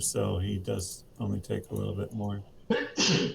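During a tabletop Pathfinder game session, someone lets out a single sharp sneeze near the end, breaking up steady conversational speech around a table.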